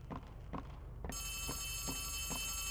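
A telephone starts ringing partway through a scene in the horror game Poppy Playtime Chapter 3, a loud, steady, bright electronic ring over a pulsing low background rhythm.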